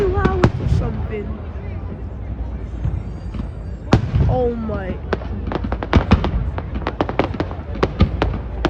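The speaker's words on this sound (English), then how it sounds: "How much fireworks are there?" New Year's fireworks over New Orleans burst in a dense string of sharp bangs and crackles, some near and loud, others fainter and scattered, with whistling rising streaks between them while a person exclaims now and then.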